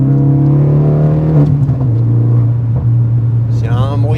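Deep, loud engine rumble of a Renault Mégane 3 RS Red Bull edition, with a low droning exhaust note that shifts pitch slightly, while a person talks over it nearby.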